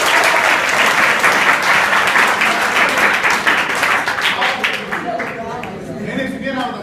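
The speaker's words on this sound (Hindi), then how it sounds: "ताली बजाने के लिए।" Audience applause at an adolescent education program in an inter college, loud dense clapping from a crowd filling the whole stretch, with voices and cheering mixed in and fading slightly toward the end.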